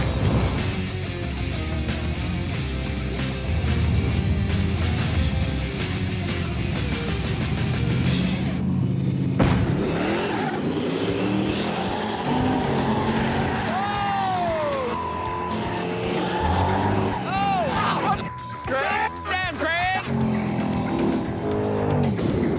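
A special golf cart drag races a small S10 pickup in a street race, with loud, sustained engine roar and revving throughout, then sharp chirps and squeals from tires in the second half.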